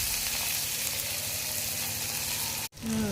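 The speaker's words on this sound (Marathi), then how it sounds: "आता त्याच्यामध्ये आपण दोडका टाकणार आहोत" Ridge gourd fries in hot oil in a kadhai with a steady, close sizzle and crackle that runs on evenly, briefly cut by a sudden drop before resuming.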